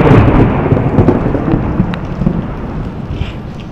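A heavy summer rain downpour with thunder on a beach at Anapa, a loud dense roar of rain with low rumbling thunder underneath, steady and close throughout, with no voices.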